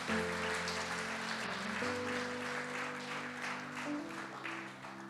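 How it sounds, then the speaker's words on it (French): Audience applause in a church during a Christian revival concert, a steady wash of clapping held throughout under sustained organ or keyboard chords. "Vous pouvez applaudir pour ces personnes qui se sont levées."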